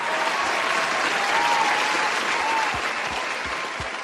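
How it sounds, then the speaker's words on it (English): An audience gives a sustained round of applause for a speaker at a talk on party loyalty, dense clapping that fills the room steadily and fades slightly at the end. "can we get a round of applause for Dr. Claude Anderson?"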